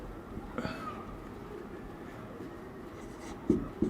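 Chalk or marker writing on a board during a maths lecture: a run of faint scratchy strokes, with a couple of sharper taps near the end against a quiet room.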